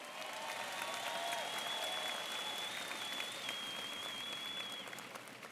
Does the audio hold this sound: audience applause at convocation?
yes